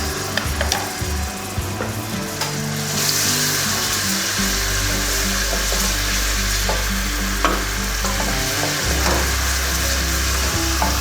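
Ginger and garlic paste frying in hot oil for a dhaba-style chana dal tadka, a steady close sizzle with stirring scrapes throughout, no talk.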